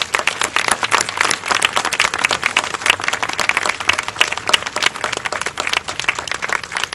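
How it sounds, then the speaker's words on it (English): Audience at a September 11 commemoration applauding a group of children, a sustained round of many hands clapping, crisp and even for several seconds with no talk over it. "I think a big round of applause, please, for these children."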